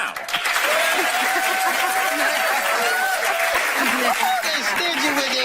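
A studio audience at a television dating game show breaks into sustained, loud clapping mixed with scattered laughter and chatter, holding steady for several seconds.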